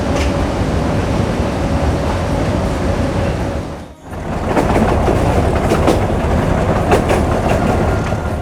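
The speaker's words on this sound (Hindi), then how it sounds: "हमारी ट्रेन अभी बढ़ रही है आगे फुलाद की तरफ" A metre gauge heritage train runs through Goram Ghat with a loud, steady rumble and rhythmic wheel clatter, recorded from on board. The noise briefly drops away at about the halfway point and then returns at full strength.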